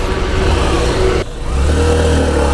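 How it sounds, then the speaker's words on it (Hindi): A 2022 Hero Passion Xtec motorcycle engine cuts out briefly, then catches and settles into a steady, close, loud idle hum with a low throb. "अभी हम शुरू करते हैं बाइक को विदाउट वेटिंग"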